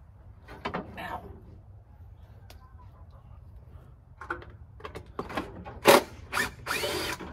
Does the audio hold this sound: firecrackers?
no